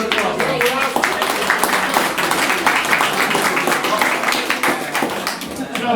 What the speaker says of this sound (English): Can we have a lesson round of applause?